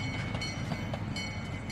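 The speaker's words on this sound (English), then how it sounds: "So this is the only shot here of the train I have today." A train at the National Museum of Transportation rumbles past close by with a steady rolling roar and faint rhythmic wheel clicks, no voices.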